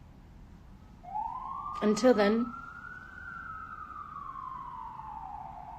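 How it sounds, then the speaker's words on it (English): An emergency vehicle siren in New York City sweeps up and holds a long wavering wail, moderately distant, while a person briefly speaks over it near the start. "Sirens. Every fucking 5 seconds."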